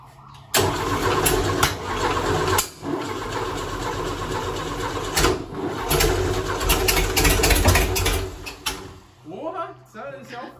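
A VW Fusca 1600 engine with a dual-tip 4x2 exhaust starting for the first time: cranking catches into a loud rough running engine that surges and sputters, with people talking close by.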